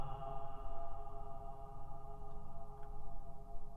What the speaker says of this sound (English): I can demonstrate this by talking into the piano while the damper pedal is on.